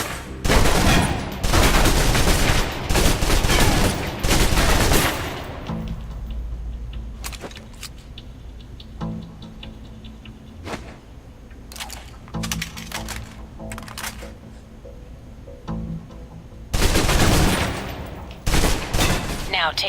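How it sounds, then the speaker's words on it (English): A submachine gun emptied in long full-auto bursts in the Alpha Protocol video game, loud rapid clattering fire near the start and again near the end, with quieter shots and sounds between. "Now, let's move on to the submachine gun. Now let's empty the clip."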